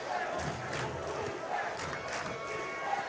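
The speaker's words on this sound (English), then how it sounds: "the North Greenville crowd in it yet again, a big student section tonight. Yelling, trying to make as much noise as they can" A large student section at a North Greenville college football night game yells and cheers continuously as one sustained, fairly distant roar with rising swells, no clear single voices standing out.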